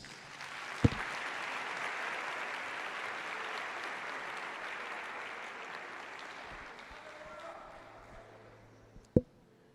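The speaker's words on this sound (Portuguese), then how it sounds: "vamos dar a Jesus uma linda salva de palmas" A church congregation claps together in sustained, even applause, heard at moderate distance, with a sharp thump near the start and another near the end.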